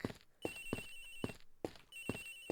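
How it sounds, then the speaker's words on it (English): Phone ringing inside the Ace Attorney Investigations video game, repeated trilling rings in bursts with a sustained electronic tone, a brief pause between the two ring groups, clear and fairly quiet. "Agent Hicks's phone! It's ringing from somewhere, sir!"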